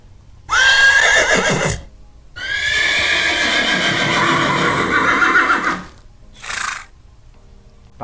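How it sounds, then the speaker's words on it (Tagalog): A horse gives two loud, drawn-out whinnies close by, the second longer and steadier, then a brief fainter snort-like call follows after a pause. "pakinggan natin ang kabayo"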